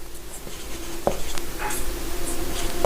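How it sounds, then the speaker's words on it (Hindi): Chalk or marker scratches on a classroom board in short, faint strokes with occasional taps against a quiet room background. "यहाँ पर मैं निकट, दूर और निकट लिखता हूँ"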